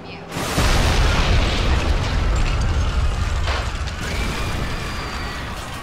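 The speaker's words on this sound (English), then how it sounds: "Makarov detonates chemical bombs all throughout Europe" Chemical bombs detonate in Call of Duty Modern Warfare: a loud, deep explosion hits suddenly, then settles into a sustained, heavy rumbling roar with no voices.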